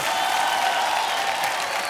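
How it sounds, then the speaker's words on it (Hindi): Studio audience applause on a celebrity comedy show, heard as loud, dense, continuous clapping from a crowd, steady and unbroken throughout, with no voices rising above it. "तालियां"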